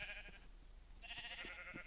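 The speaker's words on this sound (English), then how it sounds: "that's the first set of sheep in the pens. And they're breeding already" Sheep bleating in the video game Minecraft, two faint wavering bleats, one near the start and one about a second later, over quiet background.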